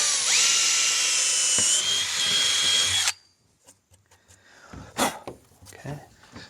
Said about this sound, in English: when you're pre-drilling for a screw into metal like this